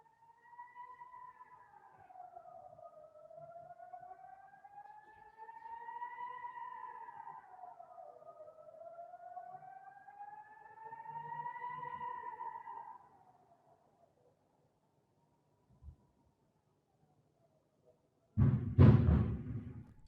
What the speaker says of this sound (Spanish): me quedaré callado y les dejaré oír la sirena y, tal vez, algunas de las explosiones, espero, de la cúpula de hierro